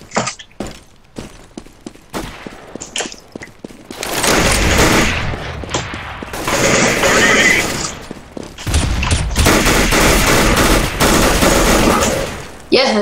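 Heavy gunfire from a Counter-Strike: Global Offensive match played live in 2015 fills long stretches, with loud sustained automatic bursts and shots alongside scattered clicks and footsteps. French-speaking players talk throughout.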